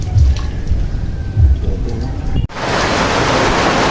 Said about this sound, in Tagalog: Lumakas ang ulang katropa.